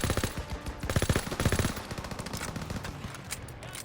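An anti-aircraft gun fires in Call of Duty WW2, a fast, loud rattling burst of repeated shots up close that thins into a steady rumbling din of battle.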